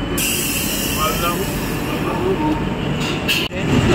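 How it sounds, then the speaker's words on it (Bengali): A Bandel–Naihati local train pulls into Bandel Junction, a loud continuous rumble of wheels and carriages close by, with a brief screech near the end and station voices faintly beneath. "এই দেখো 10:55 ব্যান্ডেল নৈহাটির লোকালটা ঢুকলো এখন"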